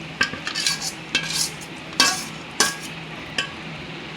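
A spoon mixes churma ladoo mixture in a metal vessel, making irregular clinks and scraping strokes at close range over a low background, with no voices.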